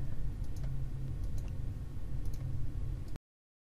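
Faint, sparse computer mouse clicks from design software used for quilt block layouts, several single clicks and a quick double click, heard over a steady low room hum.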